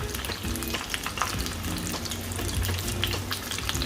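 A crispy pata pork leg deep-frying in hot oil: a steady dense crackle and bubbling that continues throughout with occasional louder pops, close up, with no talking.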